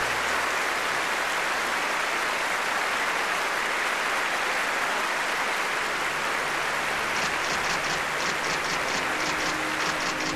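Sustained applause for a lecturer after a public talk, a steady dense wash of clapping throughout with no voices, some sharper rhythmic claps emerging toward the end.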